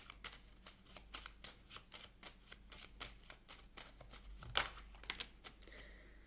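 Oracle cards shuffled in a steady run of crisp riffling bursts, close and fairly quiet, with a sharper slap near the end and no talking.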